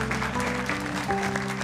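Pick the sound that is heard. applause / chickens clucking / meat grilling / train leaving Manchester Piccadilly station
applause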